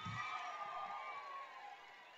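Crowd at an outdoor political public meeting in Bobbili, cheering and clapping as a broad, steady roar; a brief low thump opens it, and the noise fades slightly toward the end.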